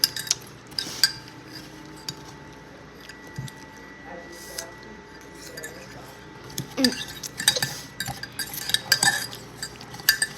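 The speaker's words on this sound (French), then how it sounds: "On mélange." Metal spoon stirring cane sugar into a drink, soft scattered clinks and scraping against the glass, faint and close, with a few louder knocks and handling noises mixed in.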